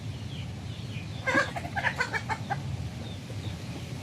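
Rhode Island Red chickens cluck in a short, close burst of several calls in the middle, set against a steady low farmyard background.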